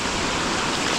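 Rushing water at Hin Lad waterfall on Koh Samui, Thailand, a steady broadband roar of flowing stream water, close and continuous with no voices.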